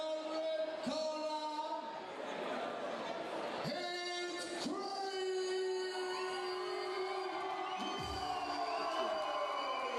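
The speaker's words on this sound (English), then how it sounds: "you can listen to the crowd's response as the SVT fighter makes his way to the cage, Craig Rawlins" At a Raged UK VI MMA title bout, an arena crowd cheers and whoops as fighter Craig Rawlins walks to the cage, with sustained roaring and tonal shouts under ongoing voices.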